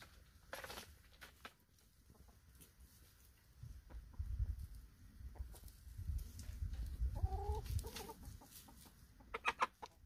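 Chickens cluck softly in a compost-filled yard, scattered short calls and a brief rising squawk over faint rustling and patter, fairly quiet and near.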